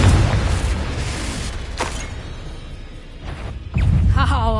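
Spell blasts in a wizard video game: a dense rumbling burst opens, followed by sharp whooshing impacts and a renewed explosive roar near the end, with a voice briefly heard over the effects.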